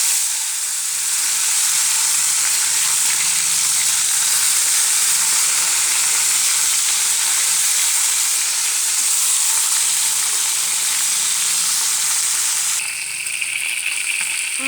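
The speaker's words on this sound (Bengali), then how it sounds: "এখন ভালো করে ভেজে নেব।" Tilapia pieces rubbed with turmeric and salt fry in hot oil in a wok, giving a loud, steady sizzle with a bright crackling hiss that holds throughout without any talk.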